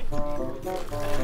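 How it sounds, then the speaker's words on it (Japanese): Rough waves slap and slosh against a small boat on open water, a continuous close splashing churn with a low rumble underneath. "結構えぐくないこの波"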